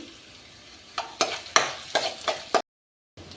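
Ginger frying in hot oil in a pan for a garlic palak gravy, heard as a few short sizzling bursts as it is stirred, close and fairly loud over a soft background hiss, then a brief silence.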